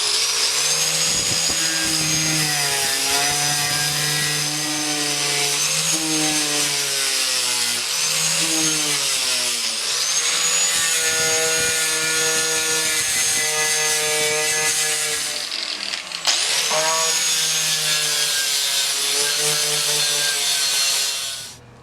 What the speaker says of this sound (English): I think I'm going to just sand that all out